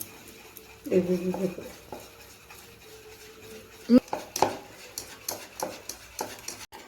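Chocolate cake batter mixed in a bowl, with irregular scraping and soft tapping strokes building in the second half, a brief tonal hum early on and one sharp knock near the middle.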